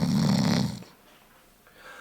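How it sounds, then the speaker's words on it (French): One loud, close snore from a sleeping ogre rattles for nearly a second, then fades into quiet breathing. "Il ronfle, Baborco, il ronfle fort."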